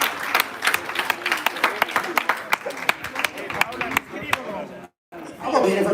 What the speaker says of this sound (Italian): Un bel applauso per i pugili.